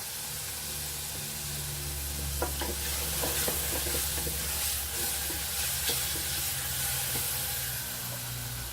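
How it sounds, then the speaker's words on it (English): Mushrooms frying in butter in a pan, a steady close sizzle and hiss with scattered crackling pops and the scrape of stirring throughout. "I love the smell of mushrooms cooking, especially when they're in butter."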